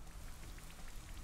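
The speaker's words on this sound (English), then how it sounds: "Oh, it's Rain Dance?" Soft, steady rainfall from a Rain Dance move in Pokemon Sword and Shield patters quietly and evenly throughout, with faint scattered droplets.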